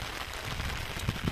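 Steady rain pours on a mountaintop in Sri Lanka, a dense, constant hiss with a couple of heavier drips near the end and no talking.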